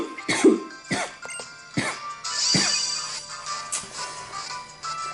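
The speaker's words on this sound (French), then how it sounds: "je récupère une toux. Fatigante." Several harsh coughs in the video game Pokémon Ultra Sun, spaced out over a few seconds, close and fairly loud, with a throat-clearing rasp and some background noise between them.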